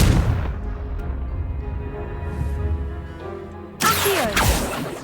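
A Confringo fire spell explosion in Hogwarts Legacy: a heavy booming blast that opens the clip and rumbles away, followed by a sharper second burst with crackling debris near the end.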